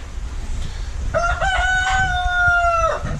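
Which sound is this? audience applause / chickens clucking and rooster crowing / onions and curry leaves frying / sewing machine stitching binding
chickens clucking and rooster crowing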